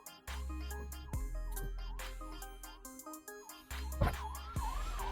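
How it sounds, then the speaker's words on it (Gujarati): An ambulance siren wails in heavy road traffic, its rising and falling tone cycling repeatedly at moderate loudness amid the steady din of vehicles. "આ એમ્બ્યુલન્સ વાળો ક્યારનો ટું ટું ટું ટું કરે"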